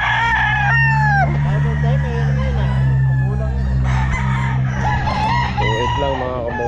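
A hatch grey gamefowl rooster at a pet market crows loudly and close, a few drawn-out harmonic calls in sequence, with a low steady hum and other fowl clucking around it.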